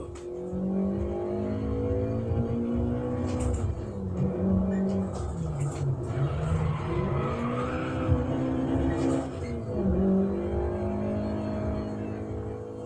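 BMW M3 E30 engine in the racing video game Grid, climbing through revs and shifting gears several times, a steady synthetic-sounding roar at moderate level with brief tire squeals.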